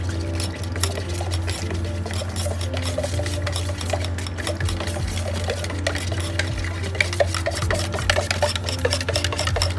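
Chameleon white paint being stirred into top coat in a container, a continuous scraping, rubbing churn with dense rapid ticks, steady and close.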